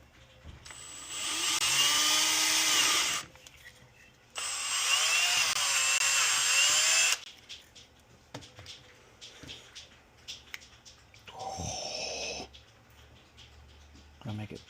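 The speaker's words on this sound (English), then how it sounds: "drill a hole, and get her plugged in" A power drill whines in two long bursts boring a pilot hole, then widening it, during an audio install in a Jeep TJ, then a shorter third run, with handling clatter and occasional talk between.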